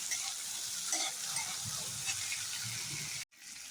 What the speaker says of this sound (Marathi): हे चांगले परतून घ्यायचे आहेत तुपात.